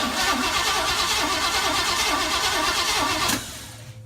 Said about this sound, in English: It is kind of inconsistent for an engine noise